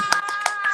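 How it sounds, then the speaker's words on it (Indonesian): Handclaps at an Indonesian stage show with a crowd, a few sharp claps in quick succession over a steady tone. "Tepuk tangan."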